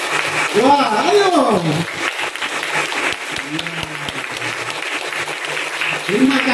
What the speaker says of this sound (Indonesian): mari kita tepuk tangan untuk semua